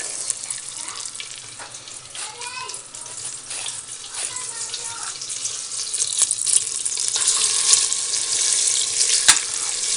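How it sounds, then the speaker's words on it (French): Chicken livers frying in melted butter in a pan for a turkey or capon stuffing, a steady close sizzle and crackle that grows louder and busier toward the end, with occasional clinks. "mon beurre est en train de fondre et je vais ajouter donc les 100 g de foie de volaille"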